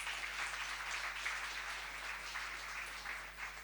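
An audience at a Brand South Africa event in Eswatini applauds in a steady, moderately faint wash of clapping over a low electrical hum.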